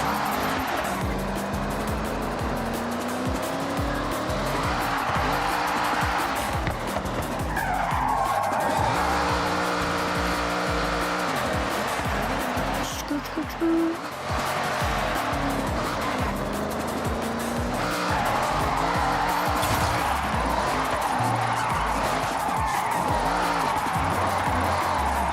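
A car in a racing video game skids and squeals its tires through repeated long slides, the screech rising and falling over a loud engine drone for a sustained stretch.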